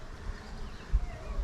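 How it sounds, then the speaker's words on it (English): Honeybees buzz steadily around an open hive where honey supers are being added, a close, continuous hum with no talking over it. "Look at the bees coming in with the yellow pollen."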